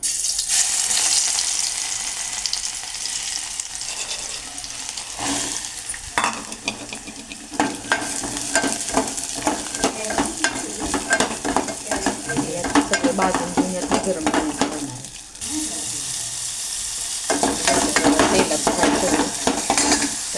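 Peeled garlic sizzles in hot oil for a tempering in a pan while a spoon stirs and scrapes steadily, a close, continuous frying hiss with metallic clinks of utensil against the pan and no talking.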